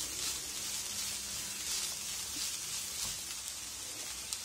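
Cooked chicken sizzling in hot oil while being made into chicken cutlets, a faint, steady, rain-like hiss with a few tiny pops and no talking.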